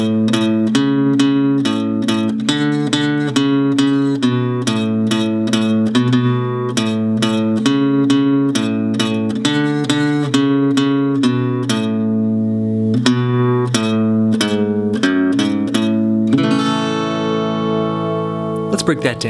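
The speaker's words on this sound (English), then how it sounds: "we have this very simple guitar solo" Acoustic guitar playing the simple solo from a song over the verse chords, a quick run of clearly picked single notes, close and loud, ending on a ringing strum.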